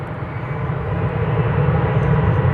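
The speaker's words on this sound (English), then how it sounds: "American Flight 2335, a 737-800." An American Airlines Boeing 737-800 arriving at Dallas Fort Worth airport from Albuquerque gives a steady jet roar that swells gradually, with no voices.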